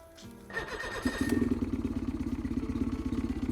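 A boat engine cranks, catches and settles into a rough, rhythmic chugging idle nearby, with clattering mechanical noise throughout.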